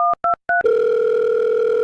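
A telephone being dialled for a call: three short dual-tone keypad beeps, then a steady, loud dial tone that holds unbroken to the end, with no voices.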